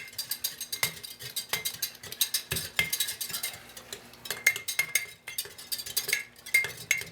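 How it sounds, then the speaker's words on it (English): A hand-held utensil stirs a hot, steaming lye solution for cold process soap in a container, producing quick, irregular clinks and scrapes in a continuous close-up rhythm with no talking. "So I mix it pretty much constantly until it goes clear."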